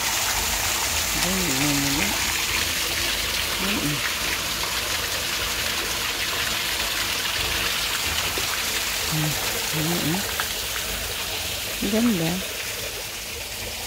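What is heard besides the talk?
flowing water stream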